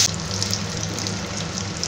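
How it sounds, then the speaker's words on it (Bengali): An egg coated in salt and turmeric fries lightly in oil for a Bengali egg curry, giving a continuous soft crackling sizzle with faint pops, close and steady. "ডিমটা হালকা ভেজে নেব।"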